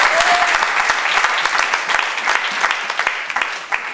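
A church congregation applauds steadily for several seconds, dense clapping close and loud that fades slightly toward the end, with faint voices mixed in.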